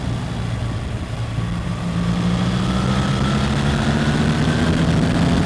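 A 2024 BMW R1300 GS Trophy motorcycle engine drones steadily while riding, a low continuous hum with a rising tone and wind noise, loud and close with no talking.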